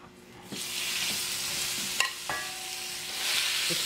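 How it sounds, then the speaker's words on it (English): Vegetables and rehydrated shiitake mushrooms sizzle in hot sesame oil in a Korean stir-fry, a steady close hiss broken by a few sharp clinks and scrapes of stirring. "Like a stir fry."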